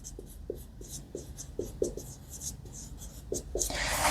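Pen writing a math solution by hand on paper, soft close scratchy strokes in short repeated bursts with a steady rhythm, no voices.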